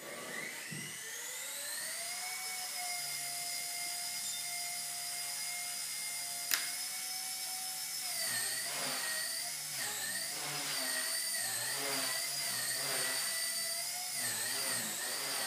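A Blade Nano CPX micro RC helicopter flies indoors, its tiny rotors giving a high, thin whine that spins up, holds steady, then wavers and surges as it maneuvers nearby.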